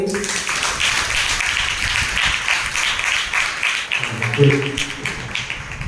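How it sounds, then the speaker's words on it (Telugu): Congregation clapping during a Catholic priest's Saturday church sermon, a continuous patter of many hands that rises slightly toward the end, with a voice speaking over it. "కావాలన్న వారందరూ చప్పట్లు కొట్టండి."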